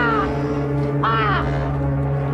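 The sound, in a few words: crow cawing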